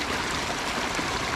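Water tumbles steadily through a pondless waterfall in a Japanese-inspired garden, a continuous close splashing and trickling rush with no voices.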